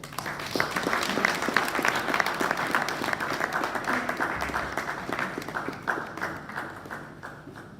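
A crowd at an agricultural symposium in Nigeria gives sustained applause, with steady, dense clapping from many hands continuing evenly for several seconds and tapering slightly at the end.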